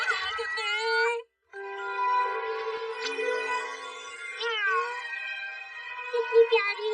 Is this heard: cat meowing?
yes